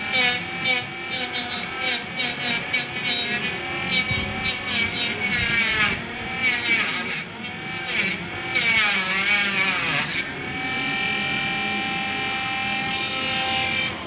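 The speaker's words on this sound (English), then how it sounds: "I'm just taking a little Dremel tool and I'm touching up this stuff on the front here" A small Dremel rotary tool trims and grinds spots on the front rack and bumper of a 2014 Polaris Sportsman 570 ATV, a loud, continuous high-pitched whine that rises and falls in bursts as the tool bites and eases off.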